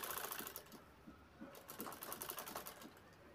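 A sewing machine stitches a zipper strip around a sling bag, making a faint, quick run of rhythmic mechanical ticks in short bursts, heard alone without talk.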